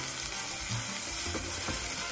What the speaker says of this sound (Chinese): 听到滋滋声呢啲爆香嘅声音咧，就代表 OK